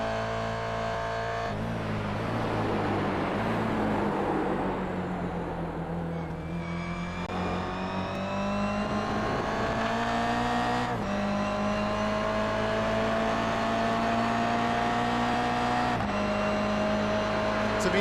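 A Toyota GR86 race car at Mosport in the iRacing sim hums at steady high revs with shifting engine pitch and some tire noise, while a commentator talks throughout.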